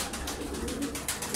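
Tumbler pigeons cooing softly in a loft, low murmuring coos repeating over a brief moment, fairly faint with a soft background hiss.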